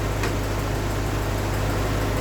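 Old-school car engine idles steadily while the car sits raised on a lift, a constant low droning hum with no changes in pace and no talk.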